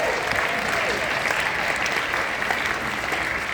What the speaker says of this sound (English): So I'm going to start with a round of applause for all of you.